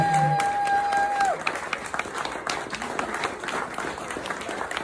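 Wedding guests clap and cheer for the mothers of the bride, a dense burst of crowd applause that carries on steadily throughout after a brief tone fades at the start.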